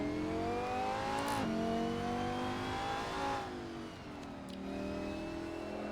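A Lamborghini Huracan Super Trofeo race car in a sim racing game at Donington Park, its engine revving steadily and loud with rising and falling pitch through gear changes, continuous throughout with no talk.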